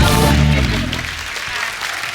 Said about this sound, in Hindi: एक बार पंगा की पूरी टीम के लिए जोरदार तालियां हो जाए